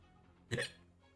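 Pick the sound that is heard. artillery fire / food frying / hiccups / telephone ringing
hiccups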